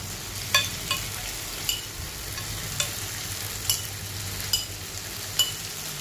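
Chicken pieces marinated in coriander powder, turmeric and chili powder sizzle in a pan, a steady close hiss punctuated by sharp, regular metallic taps of a stirring spoon roughly every second.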